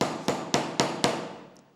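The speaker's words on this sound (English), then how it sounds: "hammer over the top of any sides that are sticking up or not level with the material" A metal hammer strikes a handmade band ring held on a stamping block, five sharp evenly spaced taps in close succession, loud and near with no talking.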